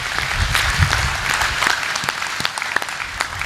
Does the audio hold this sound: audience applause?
yes